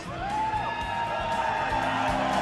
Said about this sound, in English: A lot of chants from this crowd who love you so much